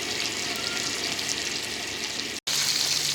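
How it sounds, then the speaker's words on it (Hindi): Pieces of fish fry in hot oil, giving a steady, close hiss and crackle that continues with only a brief break. "ये इसी तरीके से अभी सारा एक एक करके फ्राई करेंगे ऑयल में।"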